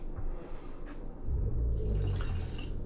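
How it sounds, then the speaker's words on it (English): Water is poured into a pot of jasmine rice for a Taiwanese-inspired rice dish. A quiet, close splash rises into a fuller, steady pour partway through and carries on to the end, with no talking. "we're gonna add enough water to bring it up to the 1 cup level inside the pot"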